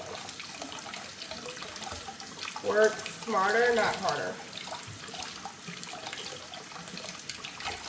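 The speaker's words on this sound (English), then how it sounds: "Fill it under cool water." Cool tap water runs steadily from a kitchen faucet onto boiled eggs being peeled, a soft splashing stream with a brief louder gush, while a person talks over it.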